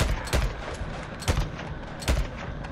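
Gunfire in the video game Days Gone: three sharp, loud shots spaced roughly a second apart, each a sudden crack with a short decay over a low background rumble, with no voices.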